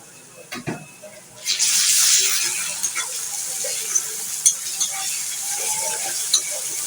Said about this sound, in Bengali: রসুনটাকেও হালকা একটু ভেজে নেব